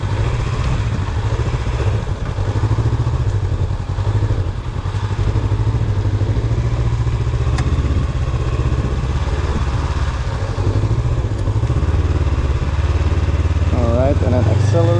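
A 2020 Honda CB500X motorcycle running steadily through low-speed parking lot exercises, its engine a continuous close drone that rises and falls slightly with throttle as someone talks over it.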